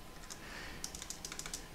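Fingers type on a computer keyboard while Java code is written for a beginners' programming lesson, a quick irregular run of light key clicks over a steady low background hum.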